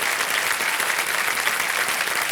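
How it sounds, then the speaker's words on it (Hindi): Loud, steady studio audience applause on a quiz show set, thick continuous clapping with no pauses for the whole stretch. "तालियां बज जाए एक बार जोरदार इनके लिए।"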